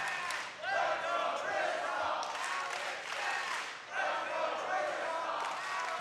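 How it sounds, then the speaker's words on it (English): Tournament crowd at a Classic Tetris World Championship 2024 semifinal chanting for competing players, rhythmic swelling cheers in waves under a commentator's voice, moderately distant. "Crowd really getting into it early on here in this decider."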